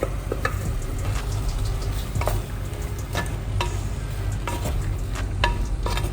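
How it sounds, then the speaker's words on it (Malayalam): Beans tipped into a pot of almost-cooked ash gourd for olan, then stirred, producing a steady sizzle with repeated sharp scraping and clinking of a spoon against the pan, close and without talk. "ഇനിയിപ്പോൾ നമുക്ക് പയർ ഇതിനകത്തോട്ട് ഇടാം."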